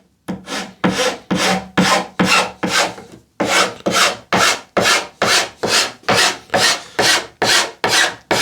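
Wood edge tape being trimmed with rhythmic back-and-forth rasping strokes, about a dozen even passes with one short pause, loud and close.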